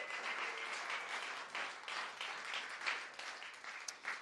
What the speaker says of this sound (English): Let's just give the Lord a clap offering this morning